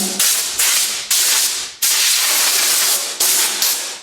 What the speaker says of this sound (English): Okay, so I'm going to blow it off.